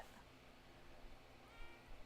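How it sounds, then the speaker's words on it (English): A cat meows faintly close to a microphone indoors, with soft low cries rising over a steady hiss of background noise. "Cat. Meow."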